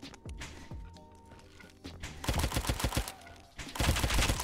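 Video game gunfire in Roblox Dust: scattered single shots, then two loud bursts of rapid automatic fire, one mid-clip and one at the end, with quieter gaps between.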